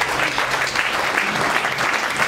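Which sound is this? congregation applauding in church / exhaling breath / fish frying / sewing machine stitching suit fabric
congregation applauding in church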